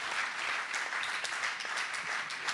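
A forum audience at a music event claps together in a steady, moderately distant round of applause that holds evenly throughout.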